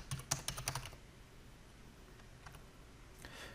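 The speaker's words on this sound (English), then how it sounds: "so now we're gonna type in our name" A computer keyboard is typed on, with a quick run of close, crisp key clicks for about a second, then near silence before a few more faint taps at the end.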